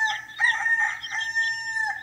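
A farm rooster crows, a clear, close call with a rising and wavering tone that carries on alone for about two seconds.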